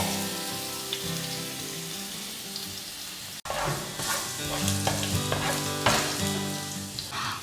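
Ginger garlic paste sizzles and spits in a hot pan, a continuous crackling fry with a brief pause, then louder sizzling and stirring scrapes.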